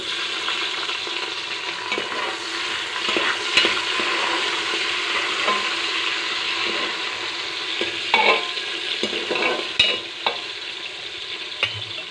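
Two medium onions and green chillies frying in a pan, a steady close sizzle with occasional scraping stirs and light clicks of the spoon, no talking.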